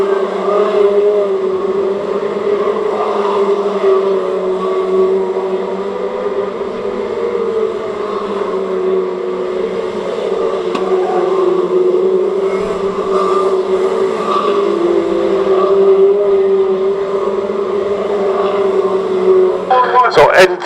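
Stock rod race cars lapping Cowdenbeath Racewall, a continuous droning roar of several engines circling at a distance under steady commentary.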